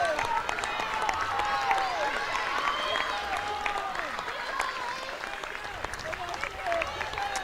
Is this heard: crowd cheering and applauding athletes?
yes